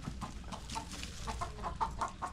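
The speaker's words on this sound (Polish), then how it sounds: "Kurki są? Są kurki." Chickens cluck in a steady, scattered series of short calls, moderately close, with a low rumble of background noise and no talking, in Phoenix.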